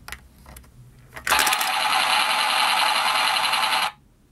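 A toy soldier coin bank sets off its machine gun sound effect after a quarter drops in, giving a few soft clicks and then a loud rapid rattling burst lasting about two and a half seconds before it cuts off.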